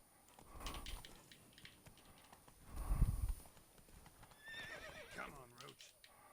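Horse hooves clip-clop at a gallop as Roach is ridden through the world of Witcher 3, with whinnies and neighs breaking in partway through; someone speaks over the hoofbeats.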